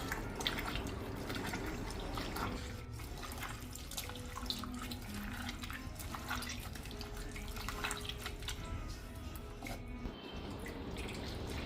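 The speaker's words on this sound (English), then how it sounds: "let's take the peels in a bowl, add some water to it and extract all the juices from the peel" Water poured over mango peels in a bowl to extract the juice, a steady close splashing and trickling with small drips, continuous throughout.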